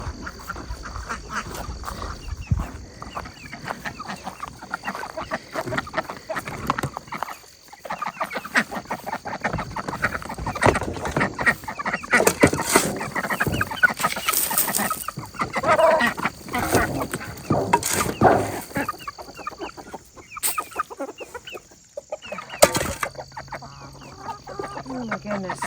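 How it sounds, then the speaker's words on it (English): Chickens clucking and squawking close by, a busy overlapping chorus that carries on steadily throughout with occasional louder calls. "Now for our lovely chickens."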